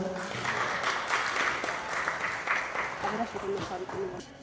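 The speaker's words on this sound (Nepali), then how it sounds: "हामी सबैले ताली बजाएर शुभकामना व्यक्त गर्नुहुनका लागि हार्दिक अनुरोध गर्न चाहन्छु" Audience applause at a Buddhist puja and Wang program in Japan, a sustained wash of clapping from a crowd that holds steady for several seconds before thinning out slightly.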